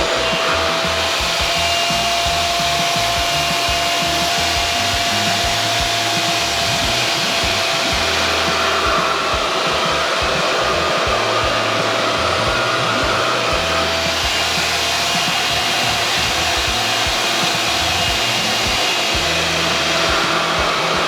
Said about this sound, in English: I will be using my RevAir reversed hair dryer.